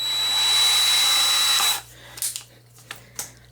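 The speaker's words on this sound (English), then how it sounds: "Drill a hole all the way through or into it mostly, or at least half of the way." A drill whines steadily and loudly for under two seconds, then stops, leaving a few light clicks and taps.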